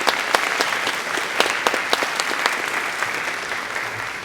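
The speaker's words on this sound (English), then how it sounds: "Let's stand and give all of our Teachers of the Year a round of applause." A ceremony audience applauds its Teachers of the Year, with dense, steady clapping that holds at an even, fairly loud level throughout and no talk over it.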